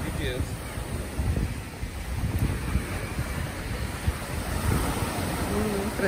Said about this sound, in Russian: Волна такая, пипец.